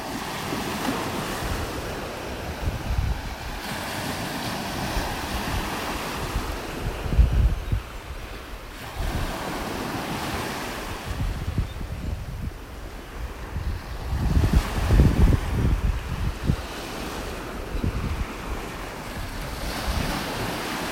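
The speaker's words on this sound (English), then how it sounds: "I love the sound of the waves." Ocean waves surge and break on a beach in North Naples, Florida, in slow swells, with gusty wind buffeting the microphone and no one talking.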